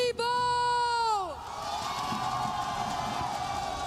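A crowd at an esports tournament cheers and whoops in a loud, sustained roar that follows a sharp rising-then-falling tonal sweep, the cheering continuing as a broad wash of voices.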